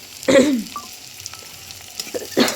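Onions fry in a pan, a soft sizzle with a couple of louder bursts of stirring or spattering near the start and end, close by and without talk.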